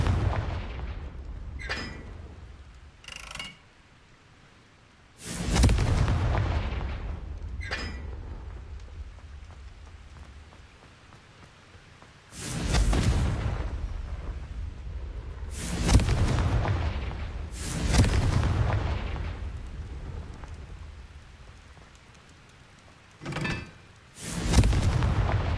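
Repeated Confringo fire spell explosions in the Hogwarts Legacy video game, loud booming blasts at irregular intervals, some short and sharp, others followed by rumbling tails, with quieter gaps between.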